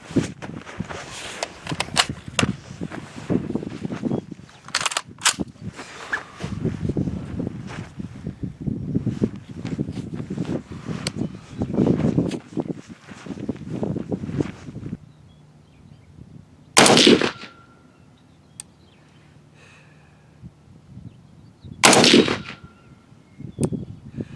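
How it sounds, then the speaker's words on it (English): A KelTec RDB rifle fires rounds downrange at an outdoor range: sharp, loud, spaced reports, with two especially prominent shots late on, amid gusty wind noise and handling sounds. "All right, let's put a few rounds down range. Let's see where we're at. I'm gonna do 5 rounds."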